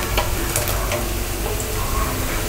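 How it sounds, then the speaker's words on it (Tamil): Onions sizzle steadily in a hot pan for chicken biryani, a continuous close frying hiss with occasional stirring scrapes, no voices. "இப்போது வெங்காயம் நல்லா வதங்கிடுச்சு."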